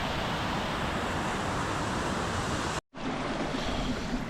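Steady broadband rush of a mountain waterfall on a trek toward Yulla Kanda, loud and continuous with a brief dropout near the end, no talking over it.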